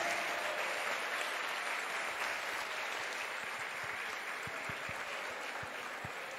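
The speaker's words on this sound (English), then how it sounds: "Can we have a big round of applause for Sridhar sir?" Applause from a large audience at the Innovate Tamil Nadu seminar, a steady, dense wash of many hands clapping that carries on evenly from start to finish without any talk over it.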